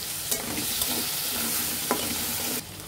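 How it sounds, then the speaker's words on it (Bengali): Garlic cloves and chopped onion fry with loitta (Bombay duck) fish in a pan, a steady close sizzle with a few sharp stirring scrapes. The sound cuts off abruptly near the end. "আমরা এখানে রসুনের কোয়া এবং অর্ধেকটা পেঁয়াজ কুচি আমরা দিয়ে দিব। এখন ভালোভাবে ভেজে নিতে হবে"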